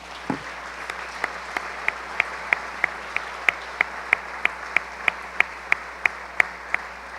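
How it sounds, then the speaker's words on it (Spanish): A church congregation at a Sunday service claps in unison at a steady, even pace. Each sharp clap is distinct over a low, quiet background, and the clapping goes on for several seconds. "Démosle una ofrenda de palmas al Señor."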